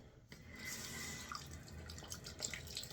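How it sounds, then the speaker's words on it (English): Hot water running from a tap to warm a razor after shaving with sheep tallow soap, a steady close splashing stream that starts abruptly and continues evenly for a few seconds. "Temper this under some hot water"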